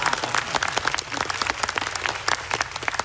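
Loud audience applause at a live Canadian Space Strategy announcement, a crowd clapping hard and continuously with a dense, crackling rhythm and no voices.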